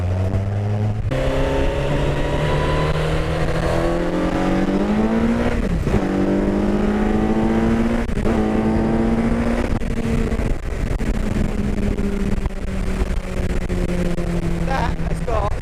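An MK Indy RR Hayabusa 200 kit car on sticky Toyo tyres accelerates hard on a test drive, its engine climbing loudly through several rising pulls with gear-change dips between them, heard from inside with someone talking over it.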